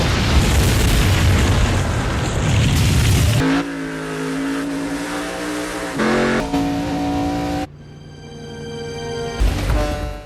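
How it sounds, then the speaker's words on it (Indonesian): Explosions during a boat and coast guard chase scene in a film, with loud booming blasts, roaring engines and a dense dramatic music score that shifts abruptly between sections. "Dan kali ini pertarungan benar-benar penuh dengan ledakan."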